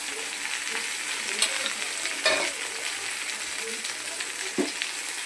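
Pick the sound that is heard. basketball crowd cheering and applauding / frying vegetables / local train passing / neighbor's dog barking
frying vegetables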